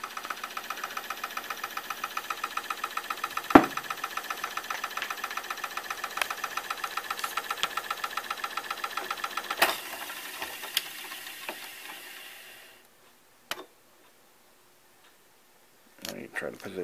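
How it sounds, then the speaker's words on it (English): Motor of a 1981 RCA SelectaVision CED VideoDisc player starting up, a fast, even ticking whir close to the microphone with a few clicks, running for about twelve seconds before stopping, then another short burst. "Let's get a shot of that motor starting up"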